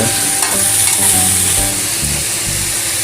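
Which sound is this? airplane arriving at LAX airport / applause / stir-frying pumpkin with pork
stir-frying pumpkin with pork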